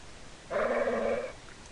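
In the video game Broken Sword: The Smoking Mirror, a dog lets out one short, close, low growl lasting under a second against quiet background ambience.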